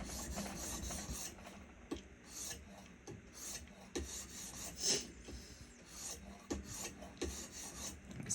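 Vanadis 8 steel knife blade stroked across a CBN sharpening stone of roughly 500 grit, a steady series of close, gritty rasping passes with brief pauses between strokes, no talking.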